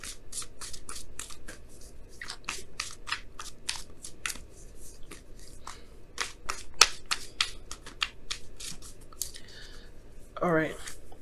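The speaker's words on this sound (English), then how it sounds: "let me go ahead and pull your Wisdom of the Oracle card for the week" Tarot cards being shuffled by hand in a quiet room, a long run of rapid crisp riffling flicks, fairly close, with a voice speaking briefly near the end.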